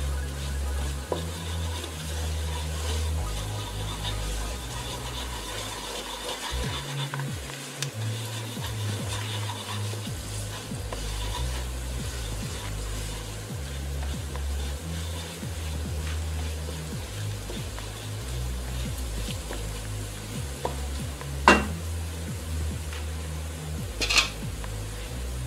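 A spoon works curry powder through cau cau de mondongo, tripe stew, in a pot, with soft scraping and a low steady simmering hiss, close and fairly quiet, a couple of sharper clinks near the end.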